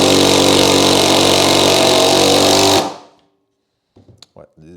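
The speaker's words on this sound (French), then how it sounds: "On va voir si on peut serrer cette vis à fond cette fois." AEG BSS 18B6 18 V impact driver at 2200 rpm and 210 Nm driving a screw home, a loud, steady, dense hammering rattle for nearly three seconds that cuts off abruptly, followed by brief speech.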